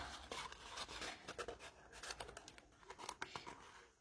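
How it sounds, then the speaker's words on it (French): Fold lines are scored on a paper craft box, producing faint, close scratchy strokes and rubs on paper in irregular short bursts with no talk. "donc là je marque tous les plis"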